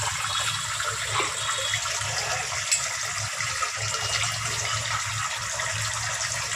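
Steady running water pours while fish such as catla and mourala are rinsed in a home kitchen, a continuous even rush with no talk over it.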